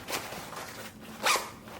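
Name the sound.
backpack zipper being opened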